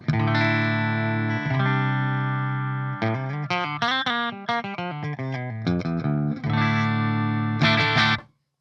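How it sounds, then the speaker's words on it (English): An electric guitar plays sustained chords and a run of single notes with a clean, unprocessed tone and no effects, ringing out and stopping abruptly at the end. "let's see what we got as our kind of bass clean tone here"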